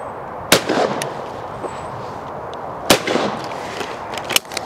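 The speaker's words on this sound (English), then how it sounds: "I'm shooting Fiocchi 28 gram cartridges, fiber wad, and they're not even thumpy." Two loud shotgun shots roughly two and a half seconds apart, fired with Fiocchi 28 gram fiber wad cartridges at a clay shoot, each a sharp blast with a short tail over outdoor background, plus a fainter crack near the end.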